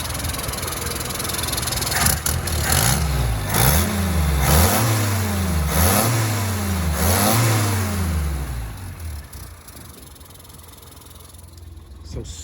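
A 1959 Austin-Healey Bugeye Sprite engine fires up close by and revs repeatedly in a steady rise-and-fall rhythm, then settles back toward a quieter idle.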